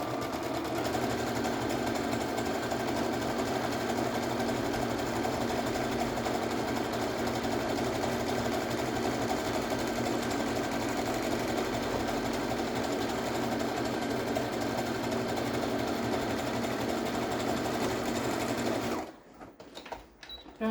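A domestic sewing machine runs steadily and close by as it stitches the side seams of fabric panels for a pair of women's underwear, holding a constant motor whir and needle rattle that stops abruptly near the end.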